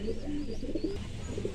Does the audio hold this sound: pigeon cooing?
yes